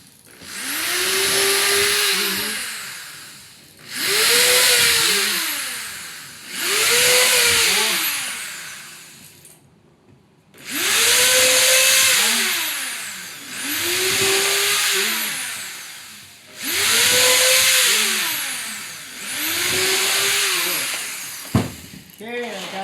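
A power drill drives 1¼ inch screws into a wooden tool box in seven separate bursts, each a whining spin that rises in pitch and then fades as the screw seats, with short pauses between them and someone talking now and then.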